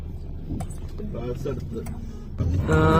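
A bus running on a road in Malaysia, its engine a steady low drone with traffic rumble that swells louder near the end, heard alongside someone talking.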